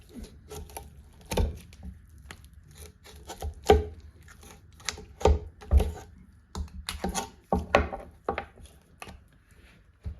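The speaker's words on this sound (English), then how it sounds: "And again, just cutting that bit of meat off" A knife cuts meat away from the leg bone of a deer being butchered at home, making irregular soft taps, scrapes and knocks against bone and board with quiet gaps between them.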